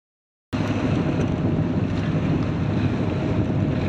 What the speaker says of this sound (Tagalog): medyo malalaki pa rin yung alon